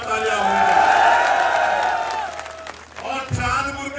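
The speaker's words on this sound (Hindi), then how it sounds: "मैं कहूंगा चांदपुर के लिए भी जोरदार तालियां होंगी।" At a Bhaichara Sammelan political rally in Dhampur, Bijnor, a large crowd keeps up a steady roar of applause and cheering, with voices calling out over it. The noise then dips briefly before picking up again.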